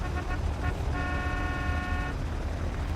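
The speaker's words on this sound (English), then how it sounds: "Who's honking the horn?" A vehicle horn honks in the My Time at Sandrock video game: a few short toots, then one sustained blast of about a second over a low background rumble.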